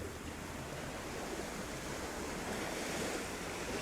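Continuous broad wash of water and waves for an underwater swimming sound effect, a steady rushing noise with no distinct events or voices.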